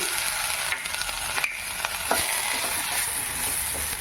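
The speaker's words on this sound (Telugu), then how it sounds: "బాగా టమాటా కాను బాగా మగ్గేంత వరకు ఫ్రై చేసుకోవాలి" Tomato and curry leaves fry in a pan for an eggplant curry, giving a steady, close sizzle with small pops and crackles throughout.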